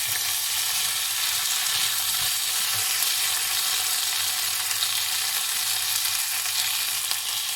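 Vegetables and kebab mince stir-fry Chinese style in a hot pan, giving a loud, unbroken hiss of sizzling oil that holds steady throughout with no talking.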